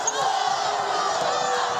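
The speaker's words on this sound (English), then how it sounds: "And this crowd has gotten vocal as she hits them both." A college women's basketball crowd at a Mountain West tournament game between Boise State and Wyoming roars steadily throughout, a dense, sustained wash of cheering voices in a large arena.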